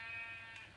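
A sheep in Minecraft gives a single short, nasal bleat, quiet and brief, with nothing else around it.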